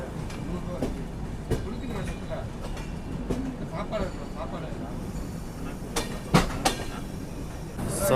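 The Tamil Nadu Express passenger train rolls near Nagpur with a steady rumble and clicking wheels over the track, heard from inside over several seconds, with a few sharper knocks and a voice talking over it.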